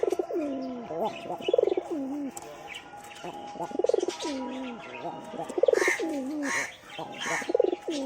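A pigeon coos close by in repeated rolling calls at regular intervals, with a few faint chirps and light background sounds between them.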